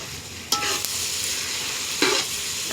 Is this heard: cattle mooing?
no